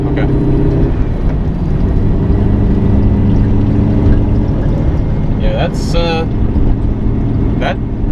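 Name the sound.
modified Chevrolet Corvette C7 engine while driving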